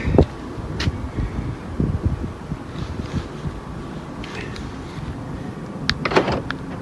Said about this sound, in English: So press it and keep it pressed. All the windows should open.